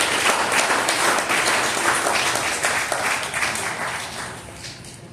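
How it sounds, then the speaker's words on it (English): At the 2024 African Americans Who Make A Difference celebration, an audience applauds Ms. Linda. The thick, lively clapping holds strong, then tapers off gradually toward the end. "Give a round of applause for Ms."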